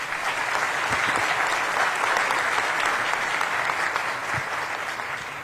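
Audience applause fills the room at a Colombian business chamber congress, a dense, steady wash of clapping from many hands that carries on without a break and fades only slightly toward the end.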